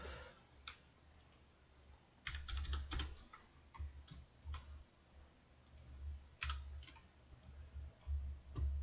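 Keys clatter on a computer keyboard during SketchUp surface modelling with a Ruby plugin, with scattered single taps and short bursts of typing, some close and crisp. No one speaks.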